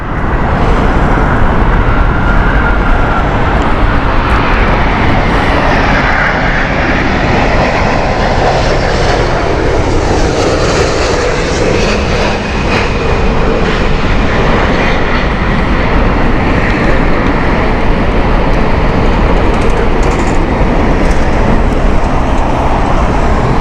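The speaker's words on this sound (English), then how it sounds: "This is a Virgin Airbus A380, and winds are still quite high, so we might have some challenging approaches this morning." A Virgin Airbus A380 on approach to Heathrow in high winds gives a loud, continuous jet engine roar that stays strong for the whole stretch, mixed with wind and distant road traffic.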